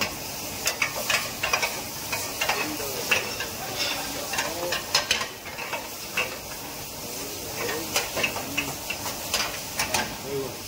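Pomfret masala fries in ghee in a pan with a steady crackling sizzle, while a utensil clinks and scrapes at intervals.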